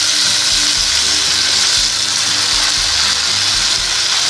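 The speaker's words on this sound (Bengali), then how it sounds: "এবার আমি শাকটা দিয়ে দিচ্ছি।" Loud, steady sizzle of oil in a frying pan as bottle gourd leaves go in over fried vegetables, a dense hiss with low clatters underneath and no talking.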